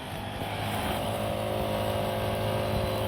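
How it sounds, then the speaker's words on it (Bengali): A garden-clearing machine's engine drones steadily and loudly throughout, a constant motor hum with harmonic tones while cutting and clearing overgrowth, with no break in the running sound. "এই বাগানটা পুরো কাটা হবে এই মেশিনটা দিয়ে"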